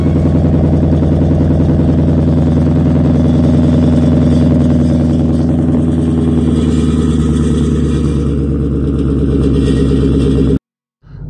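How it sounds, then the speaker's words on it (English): A 2014 Ford Mustang 5.0 GT with an aftermarket dual exhaust rumbles loudly and steadily at close range, a deep throbbing V8 note that holds for about ten seconds before cutting off abruptly. "Now you can hear the exhaust system. It does have dual exhaust system on it as well"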